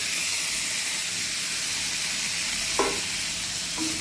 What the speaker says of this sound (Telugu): ఇప్పుడు ఇందులో చిన్నగా కట్ చేసిన ఒక టమాటా ముక్క వేసేద్దాం